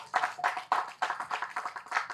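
At a stage event for the Thookudurai film team, an audience claps in uneven bursts, with about a dozen sharp clapping swells rising and fading, fairly close and free of talk.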